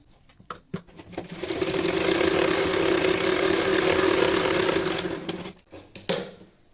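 Sewing machine stitching fabric for a rabbit hat: a steady, loud mechanical whir that runs for about four seconds after a few handling clicks, then stops, with more knocks and taps at the end.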